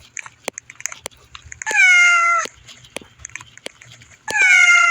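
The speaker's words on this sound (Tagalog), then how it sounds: "Alam, may meow!" A cat meows loudly twice, each a long drawn-out close call, with clicking and chewing-like sounds in between.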